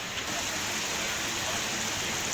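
Rain falls steadily during a stormy morning downpour with strong wind in Buxar, a constant even hiss of drops at moderate level, with no voices.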